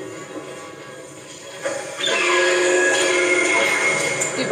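A tram car arrives in the sci-fi horror game Dead Space, a rising mechanical hiss and whine with a squealing tone that swells suddenly and holds loud, rolling and metallic, under game ambience.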